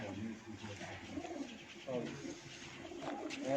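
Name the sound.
breeder pigeons cooing on a rooftop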